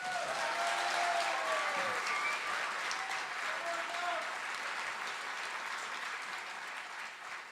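Sustained applause from a cabaret audience, loud and steady, with faint tonal sounds early on, gradually tapering slightly toward the end.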